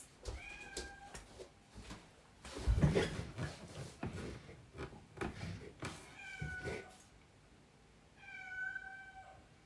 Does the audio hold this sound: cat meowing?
yes